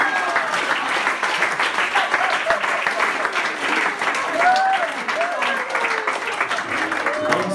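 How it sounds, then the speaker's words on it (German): Tourists applaud in a dense, continuous round of clapping that stays loud for the whole stretch, with some talk mixed into the crowd noise. "Applaus von den Touristen."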